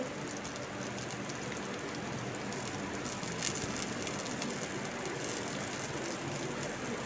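Cumin seeds frying in a pan with dried red chillies, a dense, even crackling sizzle held at a constant moderate level with no talking.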